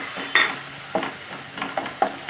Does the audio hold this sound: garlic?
yes